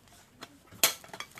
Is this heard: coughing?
no